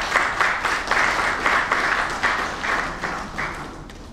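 Applause from an audience at a development bank bond launch ceremony in Brazzaville, a full, loud burst of clapping whose dense texture pulses in regular waves of roughly half-second swells.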